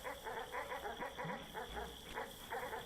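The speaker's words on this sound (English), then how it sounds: "Let's go listen to some dogs bark." Dogs barking in the video game Animal Well, a rapid run of evenly spaced synthetic woofs repeating for a few seconds, fairly loud with no talk over them.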